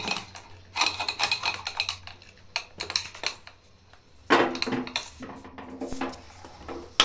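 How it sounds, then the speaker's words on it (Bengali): Metal clatter of a pressure cooker lid being handled and fitted onto a pot of chana masala, several close clinks and scrapes in uneven bursts, with a louder clank toward the end. "জলটা দেওয়া হয়ে গেলে ঢাকনাটা লাগিয়ে দেব।"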